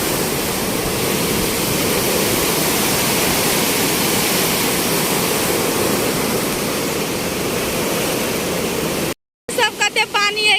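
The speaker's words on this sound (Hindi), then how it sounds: "कत्ते पानी है कोसी बैरेज में" A loud, continuous roar of rushing water pours through the Kosi river barrage steadily, dense and close, cutting off abruptly near the end before a brief burst of other sound.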